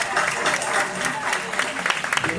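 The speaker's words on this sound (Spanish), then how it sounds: "Un aplauso, por favor." Applause fills a short stretch at a community diversity event in Rosario, a dense steady wash of claps with crowd noise mixed in and voices in the background.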